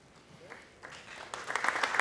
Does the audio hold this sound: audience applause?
yes